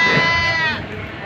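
A goat bleats at a livestock market in Padre Garcia, Batangas, a single drawn-out, wavering call, close and fairly loud, fading toward the end.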